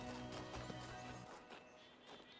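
Deer hooves clopping in the video game Talos Principle 2, a faint rapid patter of steps over a dense, noisy game soundscape with no talking.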